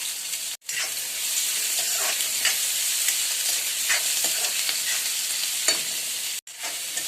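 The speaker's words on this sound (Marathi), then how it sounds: "आता मिरची टाकली आता टाकूया कांदा आणि आता लसूण" Chili, onion and garlic frying in hot oil, a loud continuous sizzle with scraping stirring strokes throughout, briefly interrupted twice by sharp cuts in the sound.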